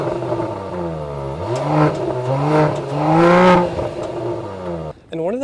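A 2024 Mercedes-AMG GLE 53 six-cylinder engine with valved exhaust revs up and falls back in a few loud, smooth sweeps, rising to a strong peak before dropping off and catching again at the end.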